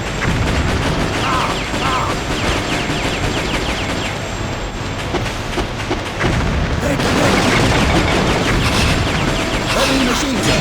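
Heavy machine gun firing in the video game Metal Slug 3D: a continuous, loud stream of rapid shots and booming impacts that fills the whole stretch, with game sounds layered underneath.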